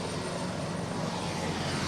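Brazilian Army helicopter flying behind the presidential aircraft at Araguari airport, a steady broadband rotor and engine roar heard alone at moderate distance without a break.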